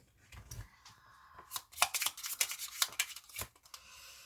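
Tarot cards shuffled and gathered by hand during a reading, a series of soft papery riffles and slides in quick, uneven bursts, close and fairly quiet with no talk.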